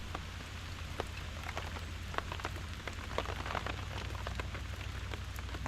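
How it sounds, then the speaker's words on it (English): Rain falls steadily on a surface, a close, continuous patter with scattered louder drops and a low hum underneath. "and the rain comes down."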